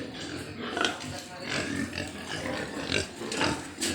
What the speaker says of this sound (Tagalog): Mama Pig.